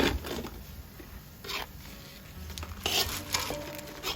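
Spices being stirred into waakye shito in a pot, giving soft scraping and stirring strokes with a light sizzle, in irregular bursts close by.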